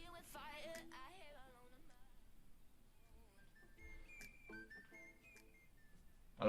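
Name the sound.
whistling in a song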